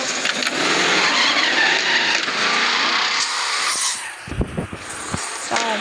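Cars rev and pull away with tires skidding and squealing on the road, a loud, continuous roar of engines that thins out as the vehicles leave, followed by a few scattered knocks and rumbles.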